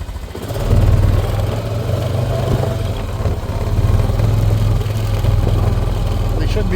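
An ATV with a flat tire being driven slowly toward an outbuilding on a rural property, its engine droning steadily and fairly loud throughout, rising and falling slightly with no talk over it.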